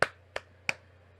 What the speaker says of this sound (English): she claps 3 times.